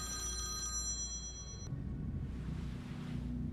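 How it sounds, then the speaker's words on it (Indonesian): A mobile phone rings with a steady electronic tone that cuts off abruptly, leaving a low rumbling ambient background. "tiba-tiba saja ponselnya berdering dan mendapatkan telepon dari orang misterius"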